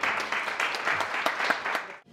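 An audience applauds the singer at a fado evening, a short burst of dense clapping that fades out after about two seconds.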